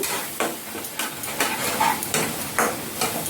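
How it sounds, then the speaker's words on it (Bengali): Spice masala being sautéed in a pan for rohu fish curry: close, rhythmic scraping stir strokes about twice a second over a steady background sizzle, with no talking. "ভালো করে কষিয়ে নেব"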